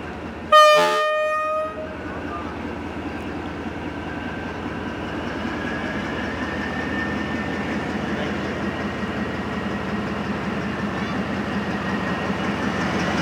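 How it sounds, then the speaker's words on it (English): A loud horn blast sounds briefly, then an old Vietnamese train rumbles past steadily, its low rolling noise and faint rhythmic clatter continuing throughout. "A typical Vietnamese train."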